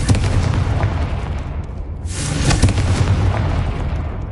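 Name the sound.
Confringo and Bombarda spell explosions destroying spider egg sacks in the video game Hogwarts Legacy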